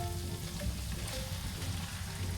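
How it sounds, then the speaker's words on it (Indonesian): Chicken meat sautéing in a pan for Indonesian chicken noodles, a steady close sizzle and crackle of frying that runs evenly throughout with no voices. "Tumis dulu sampai dia setengah mateng lah."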